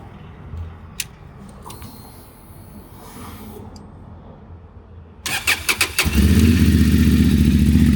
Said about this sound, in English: Let's start the motorcycle.